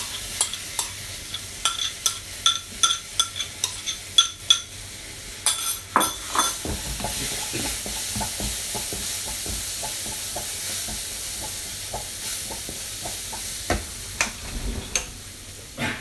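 Corn goes into a pan of roasted besan and sizzles steadily while a spoon stirs it, with repeated sharp clinks and scrapes against the pan at an irregular rhythm, close and clear with no talk.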